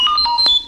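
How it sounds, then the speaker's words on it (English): A quick burst of R2-D2 droid beeps and warbling chirps, bright and close, lasting under a second. "You will know it is time to turn the page when you hear R2D2 beep like this."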